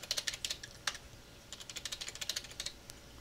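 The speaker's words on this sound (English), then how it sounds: "Now you can put in any type of password there is" Quick bursts of keystrokes on a computer keyboard while a folder password is entered, close and clear, in two rapid runs separated by a short pause.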